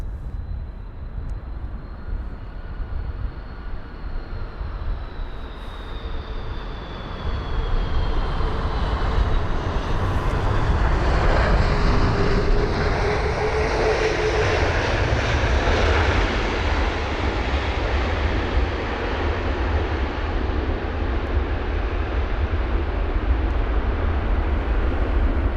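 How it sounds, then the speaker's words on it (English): An Air Algeria Airbus A330-200 airliner landing at London Heathrow, a loud sustained jet engine roar that swells and holds with a falling whine, no talking. "the flight crew on board this Air Algeria 330-200 honestly did not disappoint with that landing"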